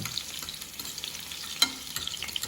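Onions frying in a pan give a soft, steady sizzle throughout, with one brief sharper clatter of stirring midway and no talking.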